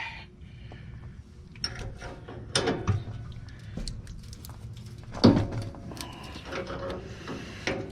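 Metallic clicks, ratcheting and clanks come from work on an exhaust elbow bolt of a 2007 Freightliner Columbia truck, intermittent and close, with a few sharper knocks and quiet stretches between.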